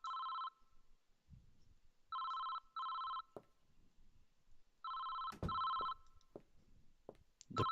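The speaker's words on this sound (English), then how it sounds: "The phone has been ringing again." A telephone rings in the horror video game Nightmare Shift, sounding in several short electronic bursts with uneven gaps between them, joined by scattered knocks and thuds and no talking.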